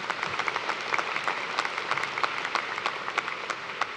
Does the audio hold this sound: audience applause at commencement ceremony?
yes